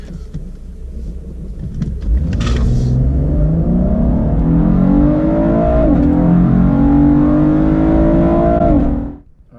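A 2016 Chevrolet Camaro RS runs hard from a standstill on a cold day, its engine note climbing steadily through the gears in one long, loud, near acceleration that cuts off at the end, with no talking.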